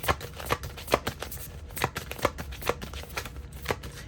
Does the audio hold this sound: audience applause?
no